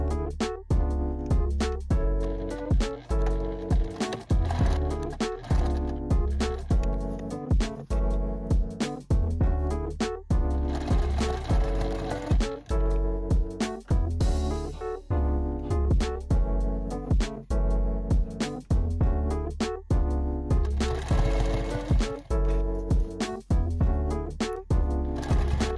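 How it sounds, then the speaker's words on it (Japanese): A sewing machine stitching the unsewn edges of a tote bag made from fabric scraps, its rapid needle strokes sounding as a continuous, even mechanical chatter up close, broken by brief pauses. "縫っていなかった部分をミシンで縫います。"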